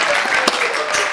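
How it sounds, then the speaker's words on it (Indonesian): A room full of people clapping for TAGANA Wonogiri disaster volunteers, a brief, dense burst of applause at close range. "Tepuk tangan sekali lagi."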